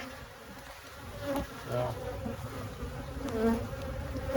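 Honey bees around an open hive with burr comb hum in a steady, dense buzz that swells and fades as individual bees pass close, with a brief spoken word near the start.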